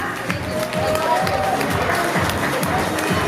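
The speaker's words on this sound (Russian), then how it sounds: "Аплодисменты нашим маленьким ангелочкам" An audience at a children's modelling and beauty show applauds the young participants. Crowd clapping is steady and moderately loud, with some murmuring and rhythmic thumps under it.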